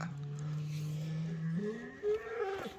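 A bull lets out one long, drawn-out moo that rises in pitch toward the end, fairly close, with a brief thump near the finish.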